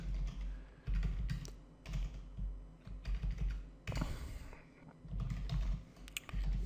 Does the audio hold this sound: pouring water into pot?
no